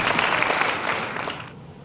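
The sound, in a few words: audience applause for a speaker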